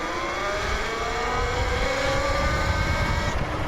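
A quick motorcycle accelerating from a stop, its engine note climbing steadily and loud from start to end, with a continuous rushing roar and no talk.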